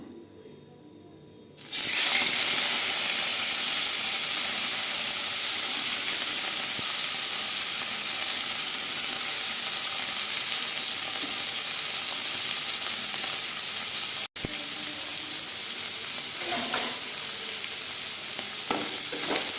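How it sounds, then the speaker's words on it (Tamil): Dried anchovies drop into hot oil and set off a loud, steady sizzle that starts abruptly after a quiet moment. The fierce hiss continues with brief dips and faint stirring noises. "இப்போ எண்ணெய் சூடாயிருச்சுங்க கருவாடு போட்டுக்கலாம்"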